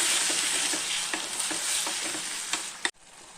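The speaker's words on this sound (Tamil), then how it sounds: "இந்த தக்காளியை இதில் போட்டு நல்லா வதக்கிக்கலாங்க." Tomatoes sautéing in hot oil for a fenugreek gravy, giving a constant bright sizzle with light stirring clicks that stops abruptly near the end.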